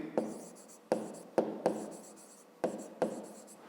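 Marker or chalk strokes on a board while a fifth-grade math exercise is worked out: six short, sharp scratching bursts in an uneven rhythm, each fading quickly, close by with no talking.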